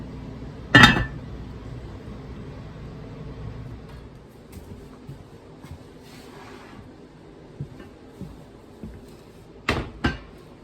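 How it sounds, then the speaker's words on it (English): A metal lid is set on a pan of BBQ pork ribs and the pan is slid into an oven, giving one sharp clank, faint shuffling and light knocks, then a second clattering bang near the end. "Now we're going to put the lid on it, and it's going to go right into the oven."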